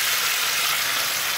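A garlic clove sizzles in extra virgin olive oil in a pan, a dense, steady, close frying hiss with no pauses, heard alone.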